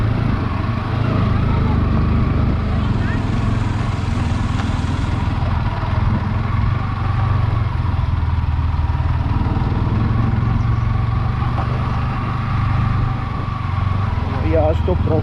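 A motorcycle engine drones steadily through an off-road ride in Uttarakhand, a low constant hum mixed with road and wind noise for the whole stretch, with a voice talking over it.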